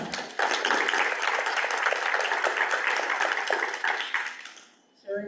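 Audience applause at a school board meeting, steady dense clapping from a room of people that fades out and is cut off by a brief sound at the end.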